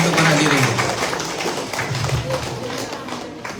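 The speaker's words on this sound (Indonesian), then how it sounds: "Tepuk tangan untuk para hadirin." Audience applause in a hall in Kuwait following a traditional Makassar dance performance, a dense sustained wash of clapping that gradually thins out, heard close with voices mixed in.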